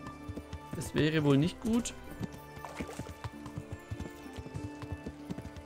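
Horse hooves clip-clopping steadily while riding through a medieval town in the Kingdom Come: Deliverance video game, with a loud neigh early on and someone talking over the hoofbeats.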